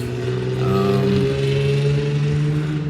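A loud car engine drones past nearby, its steady tonal rumble swelling slightly in the middle and holding throughout, with no talking.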